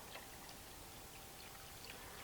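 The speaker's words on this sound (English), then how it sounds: "I'm going to measure out half a cup, and then we're going to slowly stir that into our Jell-O." Ice-cold water slowly stirred into Jell-O in a bowl for a lemon-lime refrigerated cake gives a soft, steady trickling and sloshing, close and quiet, with faint drip-like specks throughout and no talking.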